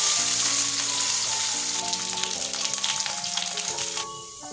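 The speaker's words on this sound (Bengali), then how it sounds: "লালচে লালচে করে আলুগুলো ভেজে নিতে হবে" Potato pieces frying in oil give a lively, close sizzle and crackle that fades slightly toward the end, with soft tonal music in the background.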